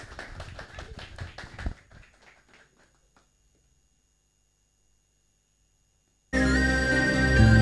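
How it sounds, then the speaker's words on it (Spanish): A television music program's studio audience applauds, a dense patter of hand claps that thins and fades out, followed by silence and then loud music. "la gente le sigue aplaudiendo"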